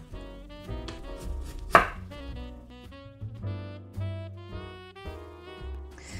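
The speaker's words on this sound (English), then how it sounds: "if you don't care about presentation, then you can just cut all the sweet potatoes into little cubes" A knife cuts sweet potatoes on a cutting board, giving a quick, uneven series of close, crisp chops with one sharper knock partway through.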